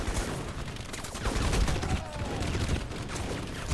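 Dense, continuous gunfire from the video game Crysis: a steady volley of overlapping rifle and machine-gun shots that stays loud for the whole stretch, with a faint voice briefly heard in the background.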